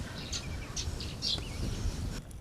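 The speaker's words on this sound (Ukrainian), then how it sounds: "пташечки щебечуть, бачиш?" Small birds chirp outdoors on a sunny spring day, several short bright tweets scattered over steady outdoor background noise, heard at moderate distance with no talking.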